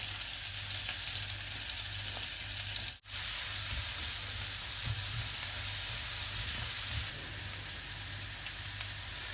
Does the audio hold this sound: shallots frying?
yes